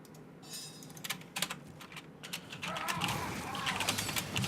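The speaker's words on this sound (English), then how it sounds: "was texting or typing to the friends" Rapid clicking of computer keyboard keys during a Heroes of the Storm match, irregular quick taps up close under steady game sounds and background noise.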